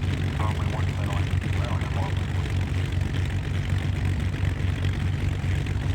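The twin engines of a Beechcraft Baron 58 in the X-Plane flight simulator run at idle with a steady, droning propeller hum and a low pulsing throb. A voice talks over it.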